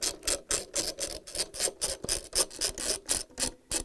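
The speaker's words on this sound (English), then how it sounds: "I'm using the socket wrench with a 10mm head on it. And we're going to start taking them out." A socket wrench with a 10mm socket ratchets out bolts from a Samsung washer's stator, giving a quick run of about a dozen crisp, evenly spaced clicking strokes, close and clear.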